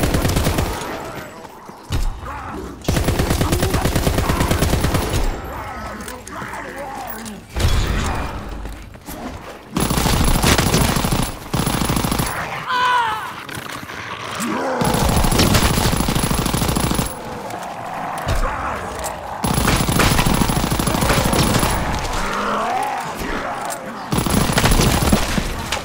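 The Blyskawica light machine gun in the video game Call of Duty: WWII Zombies fires long, loud, sustained bursts with brief pauses between them, filling the scene with rapid gunfire.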